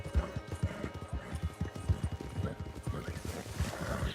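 Horse hooves clip-clop steadily in Red Dead Online, a rhythmic run of close, loud hoofbeats with a neigh, while faint talk runs underneath.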